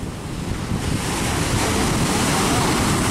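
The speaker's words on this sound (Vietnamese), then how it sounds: "Sóng thì vẫn ầm ầm, mưa thì vẫn queo queo, gió thì hù hù luôn." Stormy open sea seen from a boat heading out in bad weather, with a loud, dense roar of crashing waves, rushing wind buffeting the microphone and rain blending into one steady, near wash that builds slightly.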